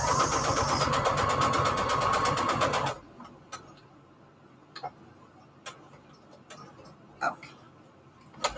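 A sewing machine stitches fabric onto an index card, its rapid rhythmic needle chatter running loud and steady for about three seconds before stopping, followed by quiet handling clicks and taps.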